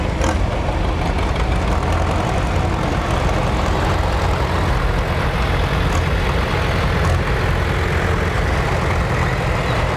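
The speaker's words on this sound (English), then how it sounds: "you could hear that tractor and you'd go toward it" A farm tractor engine running steadily at close range, a loud continuous low rumble with a rough, knocking idle texture, no voices.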